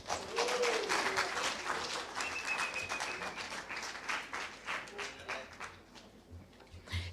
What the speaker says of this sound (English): a round of applause as we ask for Majoro to deliver the municipal address